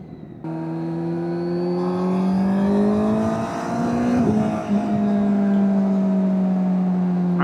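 A 2025 Kawasaki Z900SE motorcycle engine drones steadily and then climbs in pitch as it accelerates hard onto a freeway ramp, staying loud and close throughout.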